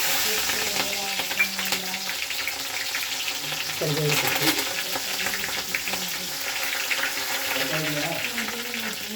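Mustard seeds and green chilies crackle and sizzle steadily in hot oil in a pan, with faint clinks and stirring throughout.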